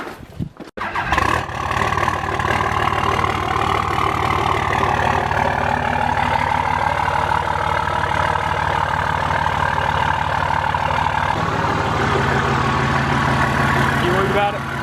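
A straight-piped Cummins diesel truck engine cranks and fires, then settles into a loud, steady, rough idle that rumbles close by for the whole stretch, with a voice faintly heard over it.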